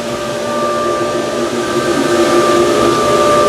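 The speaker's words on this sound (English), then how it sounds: "First we start up the motor here. That's a vacuum." A vacuum motor runs steadily to hold vinyl down during work on a Jaguar E-Type Series 1 and 2 roadster project, producing a loud, constant close whine and whoosh with a few steady tones and no talking.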